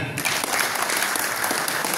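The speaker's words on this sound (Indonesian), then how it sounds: "Tepuk tangan untuk kita." A crowd at a labor confederation and party declaration press conference claps in a dense burst of applause that rises quickly and holds steady for a couple of seconds.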